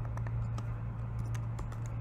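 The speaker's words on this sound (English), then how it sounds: "And we want to type in a command." Keys tapped on a MacBook Pro keyboard while entering a terminal command, a run of light, irregular clicks over a steady low hum, close and fairly quiet.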